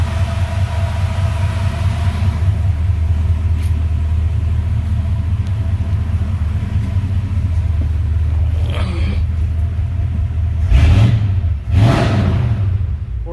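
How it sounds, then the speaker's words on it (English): A 1986 Dodge D-100 long-bed drag truck with a four-speed manual idles with a steady low rumble and cooling fans running, then gives two short, loud engine revs near the end. "I'll give her a little bit of rev for you."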